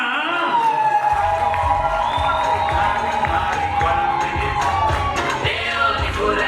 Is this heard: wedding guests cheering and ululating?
yes